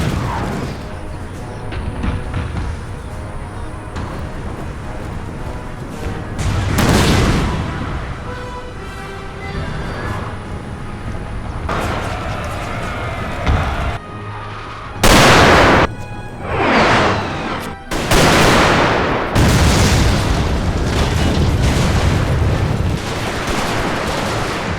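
British artillery fires in a Total War battle set during the Mahdist War in Sudan: loud cannon booms and crackling volleys arrive in irregular bursts, some sharp and close, others rolling, over a continuous battle din.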